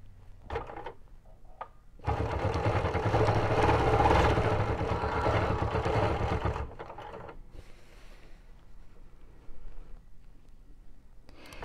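A BERNINA Q Series sit-down quilting machine stitching with ruler feet in a steady, fast mechanical whir for about four seconds, close and fairly loud, with quieter handling clicks before and after.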